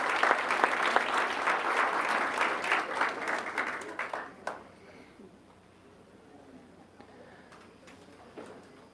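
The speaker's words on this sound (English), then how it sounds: "How about another round of applause for the 2026 Arizona All-State Junior High Orchestra musicians?" An audience at a school governing board meeting applauds junior high orchestra musicians for about four seconds, a dense burst of clapping that fades out into quiet room tone.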